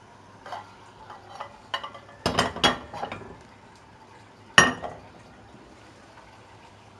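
Brinjal curry, Punjabi sour pickle-spiced aubergine, spooned from the pan into a serving dish: a few sharp metal-on-dish clinks and scrapes, spaced out and close, with a louder clatter near the end and quiet pauses between.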